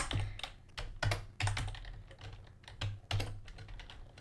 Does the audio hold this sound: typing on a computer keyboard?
yes